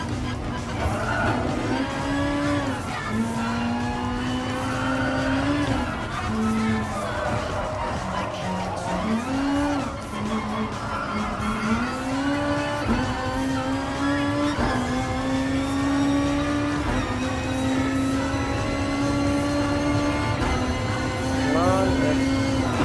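A racing car engine in Gran Turismo Sport revs and accelerates with a droning, rising and falling pitch through shifts, loud and continuous, with faint crowd-like background noise.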